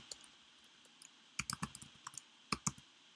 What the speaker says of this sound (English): So if I type docker ps here,